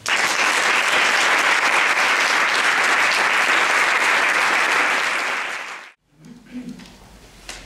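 Loud, dense audience applause at a Madrid writers' event for the mothers of Ciudad Juárez, sustained for about six seconds before stopping abruptly, followed by faint room noise and a brief murmur.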